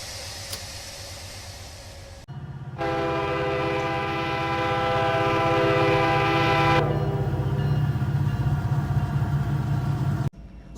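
Locomotive in Run8 Train Simulator V3, a long, loud multi-tone horn blast held over a deep engine rumble, then cut off as the heavy diesel drone carries on alone.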